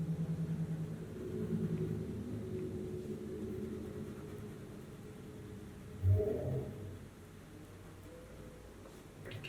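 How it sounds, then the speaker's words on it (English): Cars pass outdoors as a faint, low rumble, with one vehicle swelling briefly closer around the middle before the sound fades back to a soft background hum. "You can hear the cars outside,"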